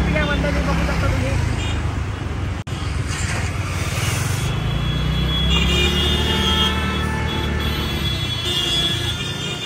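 Heavy road traffic crawls through the Kurla market: a dense, constant rumble of car and bus engines with scattered horn-like tones and a background hubbub of voices.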